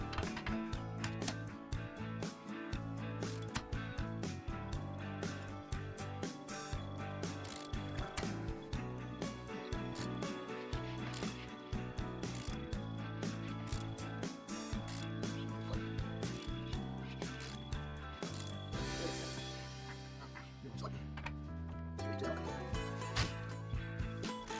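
A torque wrench ratchets rapidly and repeatedly while tightening tow bar bolts under a 2018 Ford Ranger, sharp close clicking in quick bursts with brief pauses, no talk.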